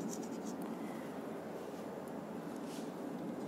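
A pen scratches steadily across paper while working out a maths problem, close and continuous, with a few light taps and no speech.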